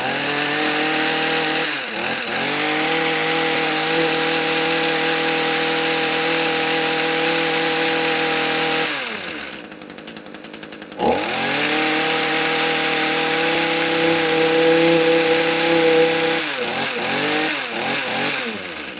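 An Echo HC150 two-stroke hedge trimmer with a newly installed carburetor runs close by, its engine whining at a steady high pitch, then dropping briefly around the midpoint before revving back up to a sustained buzz.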